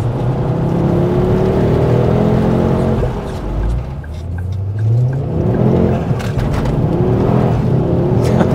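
A Ford Focus ST MK2 engine revs and settles, its pitch sweeping up and down over several seconds, loud and close inside the car, with no talk.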